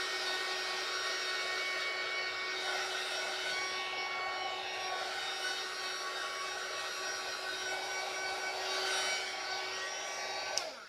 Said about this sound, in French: si on passe le heat gun aussi